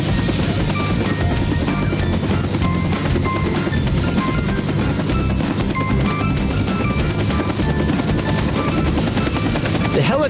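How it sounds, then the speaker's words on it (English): A helicopter flying: a steady, loud rotor and turbine drone runs unbroken for about ten seconds, with tonal whine over the dense low rumble and no breaks or voices. "Whoa, look at the helicopter go."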